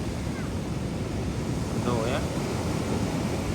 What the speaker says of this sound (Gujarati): ઓહો કેવા મોજા આવે છે ગાઈસ, જોવો તમે.